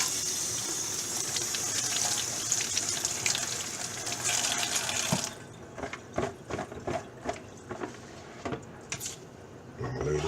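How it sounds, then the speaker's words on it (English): Running tap water pours steadily over a split, head-on fish being washed in a sink, a loud continuous gush for about five seconds, then stopping, followed by scattered splashes and knocks. "I'm gonna wash this again."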